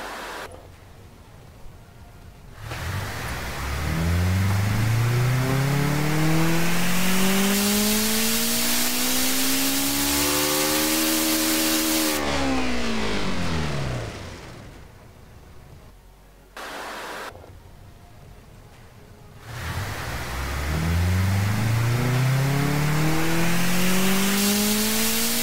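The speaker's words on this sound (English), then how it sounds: "let's see what this beautiful machine sounds like." A 2.4-litre four-cylinder car engine on a dyno in a video game revs up to a high whine, drops off, then climbs again, with brief pauses between the runs.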